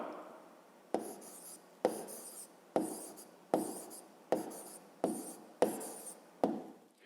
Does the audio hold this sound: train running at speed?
no